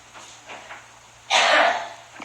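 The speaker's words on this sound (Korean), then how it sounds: "아이고, 아버지 기침하시네." A single harsh, breathy cough from an older man bursts out loudly after some quiet, faint rustling.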